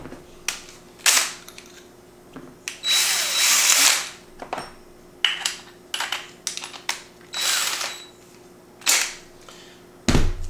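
A power drill fitted with a hole saw bores through pieces of wood in repeated short bursts, sharp loud grinding spurts separated by brief pauses, with one longer cut near the middle.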